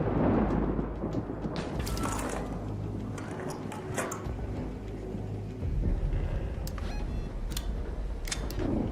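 Thunder from an electromagnetic storm rolls through the Arc Raiders video game as a low, continuous rumble over steady rain-like noise, with sharp crackles scattered throughout and no voices.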